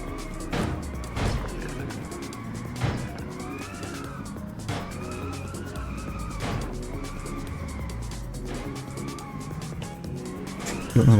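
Engine whine from a car in the racing game Inertial Drift rises and falls through repeated gear-like sweeps over about eleven seconds, with occasional tire squeals and thumps and no speech.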